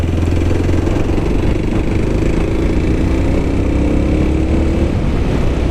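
A 2023 Kawasaki KLX300SM dual-sport motorcycle engine runs steadily at a loud, close, even drone with faint mechanical clatter and no speech over it.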